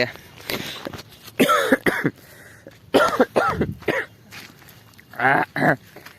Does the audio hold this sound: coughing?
yes